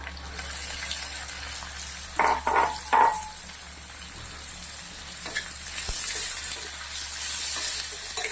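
Onions tossed into hot oil already seasoned with asafoetida and dried red chili pieces, a steady close sizzle with a few brief stirring scrapes, no voices.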